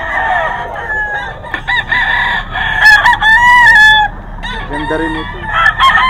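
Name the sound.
Hatch Gray gamefowl roosters crowing and clucking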